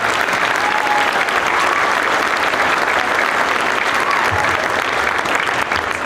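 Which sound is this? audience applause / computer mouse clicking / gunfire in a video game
audience applause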